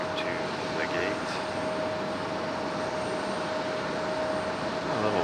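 A Boeing 777 jet takes off at Raleigh-Durham International Airport at night, a steady, distant engine roar holding level throughout beneath faint background noise.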